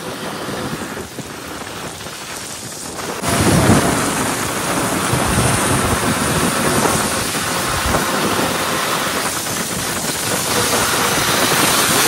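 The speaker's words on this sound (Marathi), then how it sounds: "काय पावसात खतरनाक मोसम आहे" Heavy monsoon rain pours steadily in Lonavla, a dense loud wash of drops with a deep thunder rumble swelling after a few seconds and rolling on beneath the downpour.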